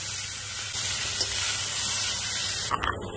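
Sour mango pieces hit hot oil already fried with five-spice, fennel and dried red chilli for a spicy pickle, giving a loud, continuous sizzling hiss that breaks up near the end, with no talk.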